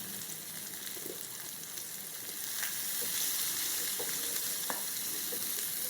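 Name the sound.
onion frying with asafoetida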